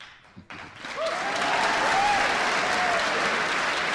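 An audience of over 1,000 people at a university talk breaks into loud, sustained applause that swells quickly and holds steady, with a few cheers rising above the clapping.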